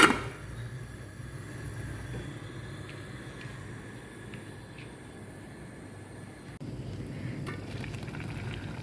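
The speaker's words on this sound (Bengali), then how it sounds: "বলক আসছে, তো চারিদিক দিয়ে উঠছে, সস হয়ে গেছে।" Grape leaf rolls stuffed with rice simmer in sauce in a pot, giving a quiet, steady bubbling and soft sizzle with a faint hiss throughout.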